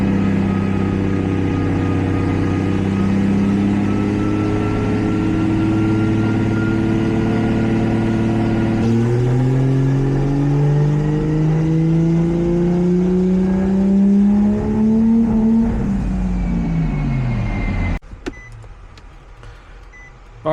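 A turbocharged Infiniti G35 engine revs under load, a loud, close drone whose pitch climbs steadily over many seconds before dropping off abruptly near the end, with no talking.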